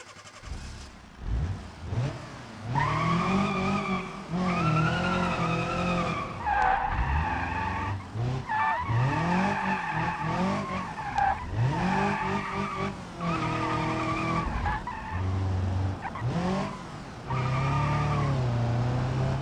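A slower car in a racing video game drives and skids, its engine droning steadily with tyre squeal over nearly twenty seconds, loud and continuous with brief dips between bursts.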